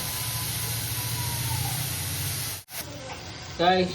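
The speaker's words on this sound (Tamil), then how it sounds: "நல்லா சவ் சவ்வை வதக்கணும்." Chayote sautéing in a pan with salt, a continuous close sizzling hiss that briefly drops away, then returns as a voice starts speaking at the end.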